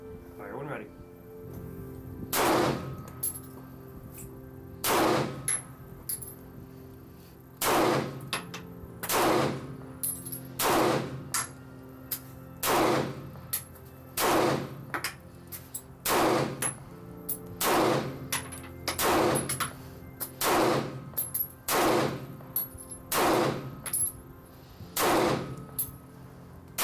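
Gunshots fired by a child during firearm training at an outdoor range: a slow series of about fifteen sharp, loud reports spaced a second or two apart, with quiet gaps between them.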